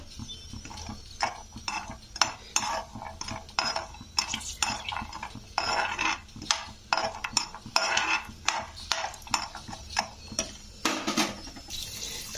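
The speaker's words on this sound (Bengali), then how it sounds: "কড়াইতে তেল দিয়ে প্রথমেই দিয়ে দিচ্ছি বাদাম। তো বাদামটাকে প্রথমে একটু ভেজে নিতে হবে" Peanuts frying in oil in a wok, heard as bursts of crackling and sizzling with clinks of a utensil stirring against the pan, close and steady throughout.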